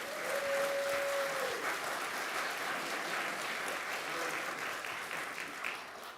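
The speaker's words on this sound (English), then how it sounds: "You all should give him another round of applause." Steady audience applause at an employee service award presentation, a full round of clapping from a seated crowd that holds evenly and tapers slightly at the end.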